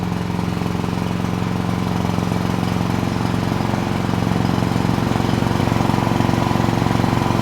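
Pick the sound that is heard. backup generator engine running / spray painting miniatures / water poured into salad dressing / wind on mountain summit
backup generator engine running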